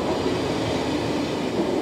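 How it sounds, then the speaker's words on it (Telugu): An SBB train rolls into Spiez railway station in Switzerland, giving a steady, close rumble of wheels on rails that holds even throughout without voices. "ఇప్పుడే ట్రైన్ కూడా వచ్చినట్టు చూడండి."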